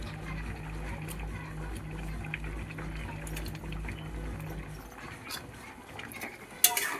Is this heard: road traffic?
no